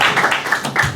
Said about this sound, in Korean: 여러분 박수로 요청해 주십시오.